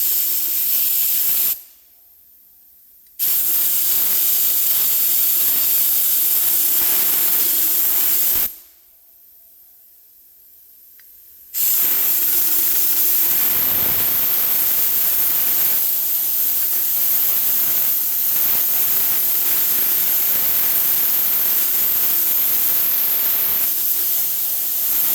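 Compressed air from a hose on a Steel Camel high-pressure air filter in a shop, blowing in loud, steady hissing bursts: a short blast, a pause, another blast, then a long continuous rush to the end.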